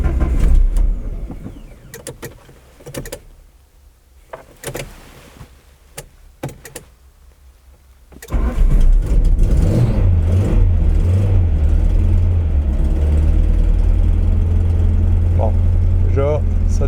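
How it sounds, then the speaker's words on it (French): Peugeot 205 GTI with a new tachometric relay: after quiet clicks and fumbling, the engine cranks and fires loudly, then holds a steady, noisy idle with a slight rev, close up. "on essaie déjà de démarrer pour voir si elle démarre avec le nouveau relais tachymétrique"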